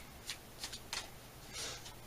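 A tarot deck made of thick playing-card stock is shuffled by hand, producing several faint, quick riffling bursts in a quiet room.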